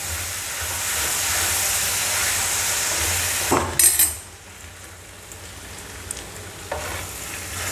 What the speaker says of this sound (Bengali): সবজির সঙ্গে মশলাটা ভালো করে ভেজে নিচ্ছি।